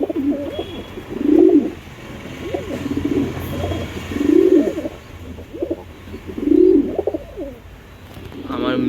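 Black top pigeons in a home loft coo in soft, throaty bursts that repeat roughly every one and a half seconds, fairly close, over a low steady background hum.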